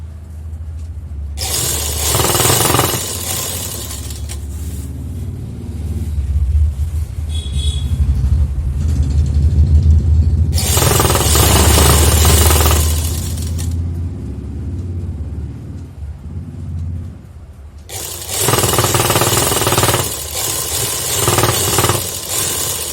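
A sewing machine stitches a skirt lining in three loud bursts of rapid whirring and clatter, each lasting a few seconds, separated by quieter pauses.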